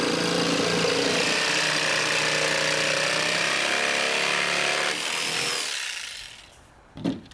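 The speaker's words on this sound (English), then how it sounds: "With the plywood raised from the ground, cut out the transition." Power saw cutting a raised sheet of plywood along a curved halfpipe transition line, a loud, steady whining buzz close by that winds down near the end, followed by a brief knock, no voices.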